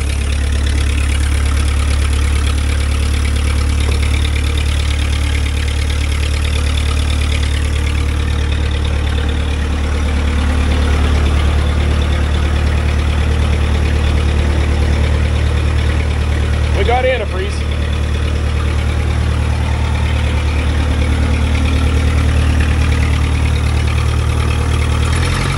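An old CAT Towmotor forklift engine that has sat unused for years runs steadily throughout, a loud, continuous low drone with a brief dip near the middle.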